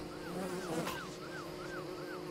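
Bees buzz around the player in the Don't Starve video game: a steady insect drone runs throughout, with a repeating rising-and-falling tone looping every half second or so, and no talk.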